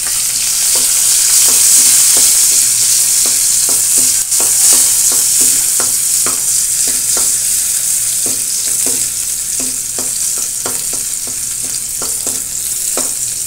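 Garlic, ginger and onion sauté in a pan for a tuna innards papaitan, with a steady loud sizzle broken by frequent sharp scrapes and clacks of a stirring utensil throughout, no voices.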